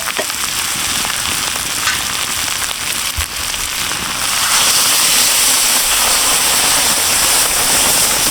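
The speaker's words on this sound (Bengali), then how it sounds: "এখন আমি পরিমাণ মতো জল দিয়ে দেবো।" Water is poured into a hot pan of jackfruit and prawn curry. A broad, steady sizzle swells louder and denser about halfway through and runs on with no talk.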